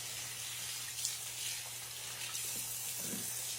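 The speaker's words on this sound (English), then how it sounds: "let's wash my hands" Tap water runs steadily into a kitchen sink as hands are washed beneath it, a close, continuous hiss with faint splashing throughout and no talking.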